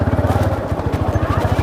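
A motorcycle idling close by at a parking area on the way to Mana village in the Himalayas, its engine thumping in a steady rapid pulse with some clatter over it.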